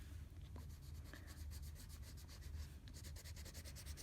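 A crayon rubs across wet paper in a steady, close scrubbing rasp of repeated strokes, quiet under a low background hum.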